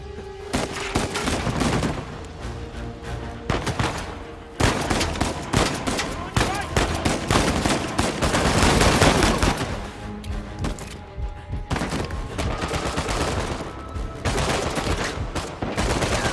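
Sustained bursts of gunfire in the video game Uncharted 4, dense automatic volleys and single shots loud and close across the whole stretch, with brief lulls between exchanges and game ambience underneath.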